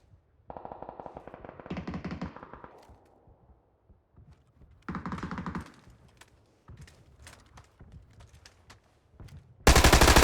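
Tommy Gun bursts in the battle royale game PUBG, coming as several short, loud rapid-fire volleys separated by quieter gaps filled with scattered clicks and thuds, ending in a sudden loud blast.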